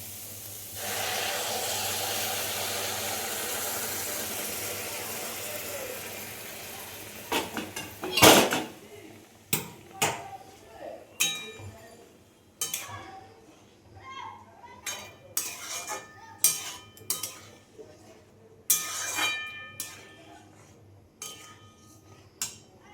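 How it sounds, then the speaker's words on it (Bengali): Hot milk pours into a pan of fried grated carrots for carrot halwa with a long steady sizzle, then a metal spoon scrapes and clinks against the pan in irregular stirring strokes while someone talks. "এই যে গরম দুধটাকে দিয়ে দেবো এবারে গাজরের মধ্যে"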